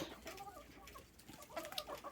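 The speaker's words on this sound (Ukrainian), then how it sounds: "Тепер їдять курочки." Hens eating grated potato and beet cluck softly and busily at close range, a steady chatter of short calls with a few higher notes, no speech.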